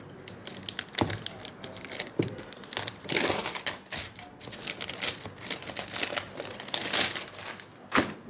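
A package is unwrapped by hand, its plastic wrapping crinkling and crackling in irregular bursts with sharper tearing snaps, close and fairly quiet.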